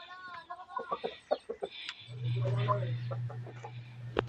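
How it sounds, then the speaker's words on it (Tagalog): A chicken clucks in a series of short, close calls, then a low steady hum starts up beneath further clucking. "Manok sulod."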